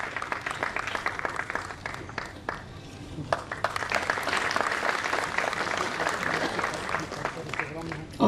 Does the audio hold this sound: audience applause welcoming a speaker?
yes